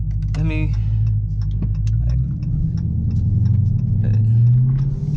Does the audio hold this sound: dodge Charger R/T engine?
yes